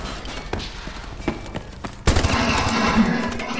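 Gunfire in the video game Call of Duty: Advanced Warfare, with a few scattered shots and clicks followed by a sudden loud burst of rapid fire that continues to the end.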